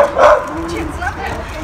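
A dog out among other dogs lets out a single short bark up close, followed by faint whimpering, with people talking over it.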